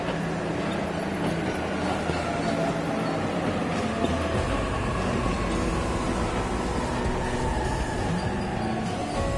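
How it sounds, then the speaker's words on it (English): A train arrives at a station in a video game, a continuous loud rumble and rolling rail noise with a faint descending whine, steady throughout and with no talking. "There's the train."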